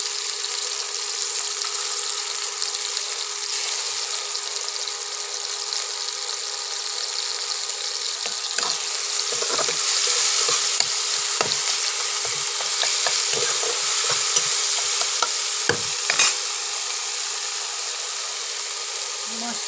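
Ginger and chili paste frying in a pan for a Bengali dhokar dalna, a steady hiss with scattered crackles and pops from close by, no one speaking.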